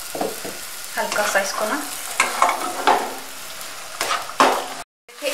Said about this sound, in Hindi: अब हम कढ़ाई में 1 टेबलस्पून के करीब ऑयल शामिल करेंगे, और इसमें गाजर और शिमला मिर्च को सौते करेंगे